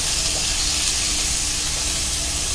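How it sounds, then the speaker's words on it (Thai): Minced pork stir-frying in a hot pan for a Thai sugar-pea stir-fry, giving a steady, loud, close sizzle with faint scraping of stirring throughout, no voices. "ทีนี้เราก็จะใส่ตัวนี้ครับหมูสับลงไปเลยนะครับ ลงไปผัดรวนด้วยกันครับผม"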